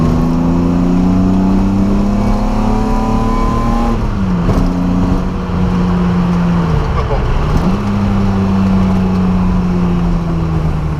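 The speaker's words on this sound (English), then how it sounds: "So it definitely likes being revved, and it sounds absolutely bloody brilliant." Datsun 280Z hot rod engine revving hard, a loud sustained raspy drone that dips briefly twice between throttle blips before climbing again, close and continuous.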